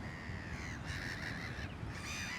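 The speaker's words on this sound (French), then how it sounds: "Quelques mois par an, les mouettes tridactyles prennent possession du cap Blanc-Nez." Black-legged kittiwakes calling at a seabird colony on the chalk cliffs of Cap Blanc-Nez, a steady overlapping chorus of raucous cries with no pauses, fairly loud, with no talk over it.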